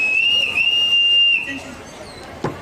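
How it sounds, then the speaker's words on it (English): A loud, steady whistle blast, nearly steady in pitch, rings out alone for about a second and a half at a Magic Kingdom pirate tutorial show before fading to crowd murmur. "Let me just get me a whistle."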